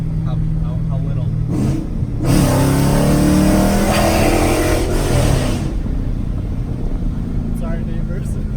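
A Dodge Challenger R/T fitted with longtube headers idles with a deep rumble, then revs hard in a loud, raspy pull that holds for several seconds before dropping back to idle, with voices talking over it.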